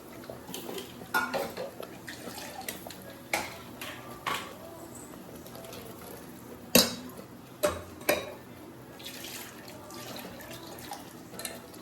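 Malvani fish curry being stirred in a pot after ground masala paste is added, with a spoon scraping and clinking against the metal in scattered knocks and a few sharper clanks over a low kitchen hum.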